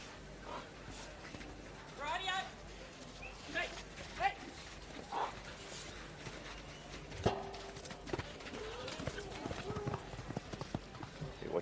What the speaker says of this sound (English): Scrabble is a 10-year-old bay gelding by One More Playboy